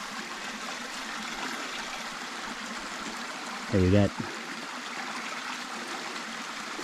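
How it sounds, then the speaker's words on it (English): Water flowing out of a micro hydro penstock standpipe, a steady rushing, trickling stream of moderate loudness running throughout, briefly interrupted by a short spoken word. "These are a standpipe to allow the water to flow in here"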